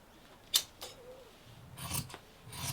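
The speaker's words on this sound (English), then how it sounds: "and then cut my pattern piece out of them." Scissors snip through striped fabric to cut out a sewing pattern piece, several short, quiet crisp cuts with faint rustling of cloth in between, close by and without talk.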